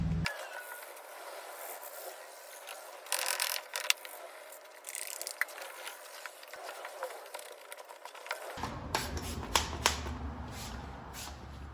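Scrubbing by hand on the door handle of a $500 BMW E46 330i Sport being detailed, a scratchy rhythmic rubbing with clicky mechanical bits, brief louder bursts, close up and alone without talk.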